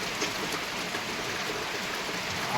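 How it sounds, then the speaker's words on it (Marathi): Steady heavy rainfall in Jalna district, an even, continuous wash of hissing water with no other sounds or voices. "चांगला पाऊस आहे मित्रांनो आमच्याकडे"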